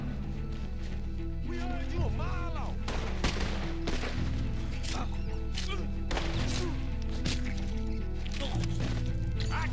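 Gunfire in the Red Dead Redemption 2 video game, sharp shots scattered through a busy game mix with a music bed, mostly close and loud.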